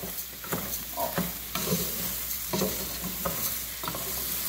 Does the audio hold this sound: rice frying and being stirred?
yes